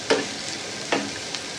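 Potatoes, long beans and green chilies hit a hot pan and fry, with two bursts of sizzling stirring about a second apart over a steady background hiss, close and moderately loud.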